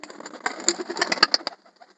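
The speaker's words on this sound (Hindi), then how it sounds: "ये हमारा कबूतर है" Pet pigeons coo softly up close, a few low, murmuring calls with rustling in between that fade out toward the end.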